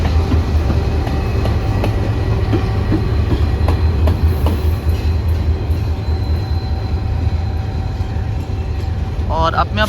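A train with a GU14 locomotive rolls along railway tracks close by, making a steady loud rumble with faint wheel clatter. Someone talks over it and a brief squeal comes near the end.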